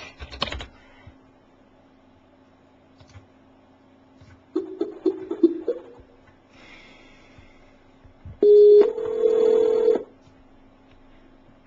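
A telephone keypad is pressed in short bursts of tones, followed by two steady electronic ringback tones on the line while a call is placed back, with faint handling noise in between.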